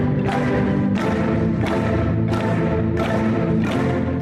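A world-record ensemble of 1,276 marimbas plays at once, a dense, loud wash of wooden mallet tones swelling in rhythmic waves about every seconds, with no voices.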